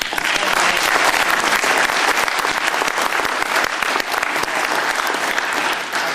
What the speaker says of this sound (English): Final round of applause for all four of them for being great sports.